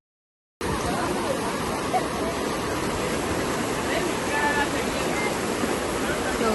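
The Bavali river flows at a temple site in Karnataka, heard as a steady, full rush of water starting after a brief silence and continuing unbroken at close range with no voices.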